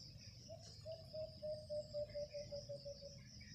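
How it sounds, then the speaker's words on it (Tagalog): An alpas bird calling from a lansones tree, a faint, thin sustained whistle rising and wavering over a steady high insect drone and low background hum. "humuhuni yung alpas mga paps"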